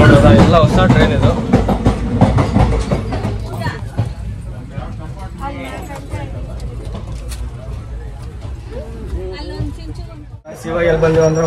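Inside a new special passenger train on the move, the carriage rumbles and rattles with rhythmic clatter and a low drone, loud and close, while people talk over it and the noise briefly dips near the end.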